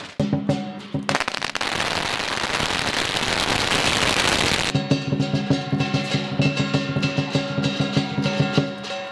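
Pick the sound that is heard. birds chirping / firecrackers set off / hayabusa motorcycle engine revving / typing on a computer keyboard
firecrackers set off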